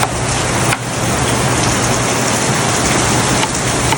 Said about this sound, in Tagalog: Grabe no, ang lakas ng ulan.